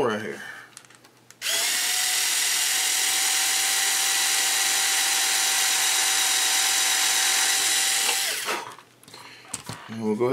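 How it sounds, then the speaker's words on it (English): A power drill bores a hole during a model airplane build, one steady high whine held for about seven seconds, close and loud, with brief quiet handling before and after. "We're going to drill a hole right here."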